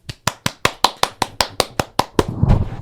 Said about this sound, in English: Round of applause for our new president